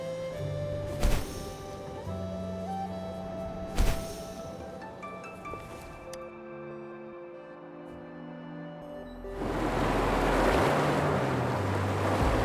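Receding water in Wuthering Waves, a washing, surf-like rush that swells in loudly toward the end, preceded by quieter tonal ambience with a couple of sharp thuds.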